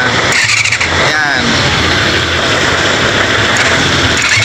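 Yamaha FZR 250 motorcycle under restoration, its engine cranking without starting, a loud, continuous mechanical whir and rasp filling the clip, with someone talking briefly over it.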